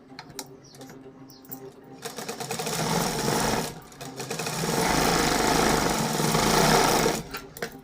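An electric sewing machine stitches a hook-and-loop strip onto a princess-cut blouse, running in two bursts of rapid, close whirring that start and stop under a quiet room.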